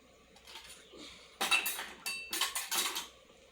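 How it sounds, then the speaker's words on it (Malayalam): Metal kitchen vessels and utensils clatter and clink as they are handled and put away, in several sharp bursts close by with no talking. "പാത്രങ്ങളൊക്കെ എടുത്ത് വെക്ക്."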